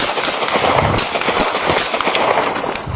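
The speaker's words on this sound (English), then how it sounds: "He turns and fires his shotgun. In response, the deputies open fire, neutralizing the threat." A dense barrage of loud gunfire at close range as a suspect's shotgun blast is answered by deputies returning fire during a police confrontation, with rapid overlapping sharp cracks throughout.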